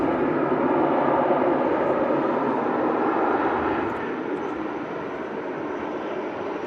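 An Aer Lingus ATR turboprop arrives at Manchester Airport with a steady, broad engine roar that fades gradually while staying fairly loud throughout.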